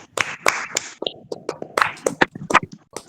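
Hands clapping along during a worship prayer meeting, a loose series of sharp claps and taps spread unevenly through a few seconds.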